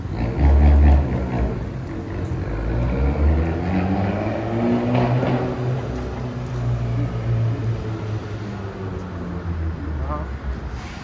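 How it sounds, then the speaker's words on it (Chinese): An airplane passes over a city street in New York's NoHo–East Village area, a broad droning roar swelling and fading over steady street noise while people talk nearby. "飞机嘞。"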